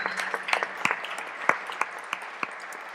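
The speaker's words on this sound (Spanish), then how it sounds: "Le damos un aplauso a los dos nuevamente." Light applause from an audience at a talk on suicide, sparse individual claps in a loose rhythm, moderately near.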